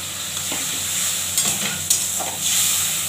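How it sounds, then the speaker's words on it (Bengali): Spice paste with tomato and water sizzles and bubbles in a hot pan while a spoon stirs it, with a few scraping strokes over a constant frying hiss. "এবার ভালো করে কষিয়ে নেব।"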